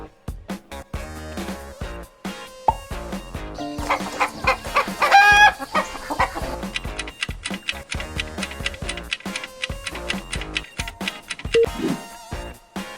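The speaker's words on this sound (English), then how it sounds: "Chicken." A chicken clucks and a rooster crows once over light ticking background music, the crow standing out midway through the repeated clucks.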